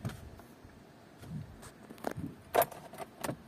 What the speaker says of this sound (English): I take the keys. The keys with me.